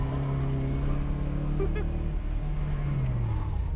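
A car engine runs rough on only three cylinders with lard used as engine oil, a loud, close, uneven drone whose pitch shifts and drops near the end, with little power behind it.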